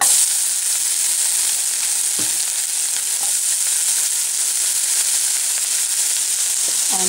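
Chopped onion frying in a tablespoon of hot oil while cooking corn and beans, a steady close sizzle with faint stirring scrapes and no talking.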